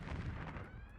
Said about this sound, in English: you just hear a large explosion coming from the decks beneath you